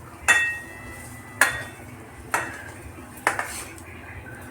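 Four sharp metallic clanks at roughly one-second intervals, as potato filling for aloo paratha is scraped from a pan onto a metal plate, each knock ringing briefly before fading.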